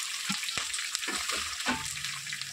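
Broiler chicken frying with ginger paste and plenty of curry leaves for an Ankapur-style Telangana curry, a loud close sizzle broken by several scraping stirs of a spoon in the pan, with no voices.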